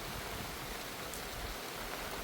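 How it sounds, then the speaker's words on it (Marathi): Heavy monsoon rain pours down in a Kokan village, a dense, uniform hiss of falling water that fills the whole stretch without pause, close and steady. "मागे जो पाऊस चालू झाला आहे एकदम तुफान"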